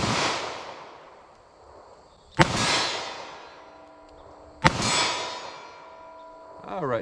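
Two sharp, loud .38 Special revolver shots firing Federal Hydrashok rounds at an outdoor range, spaced a couple of seconds apart, each ringing out with a long decaying echo, and a third report starting at the very end.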